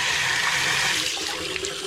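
Water pours steadily back into a crayfish tank, making a continuous loud rushing and gurgling flow that eases slightly toward the end, with no voices.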